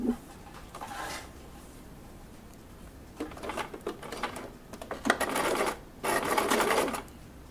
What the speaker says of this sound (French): Et nous allons coudre.